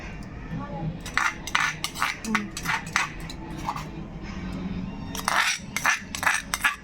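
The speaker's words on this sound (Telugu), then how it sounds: "ఇప్పుడైతే మనం ఈ గిన్నెలోకి పచ్చడి తీసేసుకుందాం" A spoon scrapes and clinks against a metal bowl in a series of short, uneven strokes as tomato chutney is scooped in, with quiet kitchen background between them.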